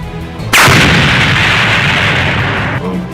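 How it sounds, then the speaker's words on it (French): A sudden loud blast erupts and roars on as a sustained, rumbling explosion for a couple of seconds before cutting off. "Tout ce qui se trouve dans le cercle sera touché par l'explosion."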